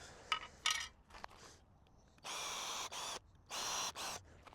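A power drill runs a bit into a workpiece while building a DIY gear loadout stand, after a few clicks and handling taps, giving two or three sustained whining bursts with brief pauses in between, fairly close.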